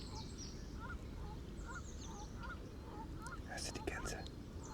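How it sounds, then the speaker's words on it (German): Geese honking at a farm animal sanctuary, a series of short repeated calls at moderate distance over a steady low background rumble, with faint murmuring in the mix. "Hörst du die Gänse?"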